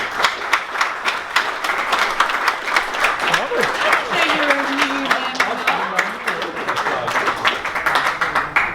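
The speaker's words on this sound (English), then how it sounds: "let's give them a round of applause" Steady applause from a room full of people, dense rapid clapping sustained throughout with a few voices murmuring underneath.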